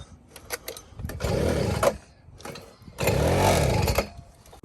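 Two-stroke 50cc Honda Z50 minibike engine revving in two loud bursts, each a buzzing rasp that rises and falls, separated by quieter idle and brief pauses.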